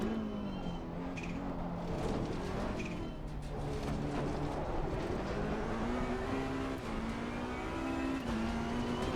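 A race car engine in a racing game on the Donington circuit revs steadily and loudly, its pitch rising and dipping through gear changes across the whole stretch with no talking.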